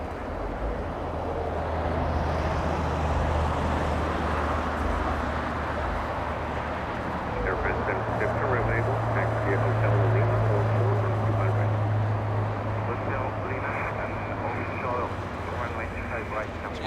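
A China Eastern Airbus A330-200 lifts off at Los Angeles International Airport with a continuous deep jet roar and low droning hum, while someone talks over it for much of the stretch.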